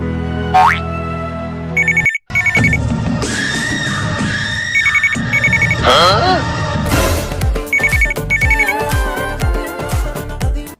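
A mobile phone rings from an incoming call, its electronic ringtone repeating in short bright bursts between bangs and busy background noise, loud and close.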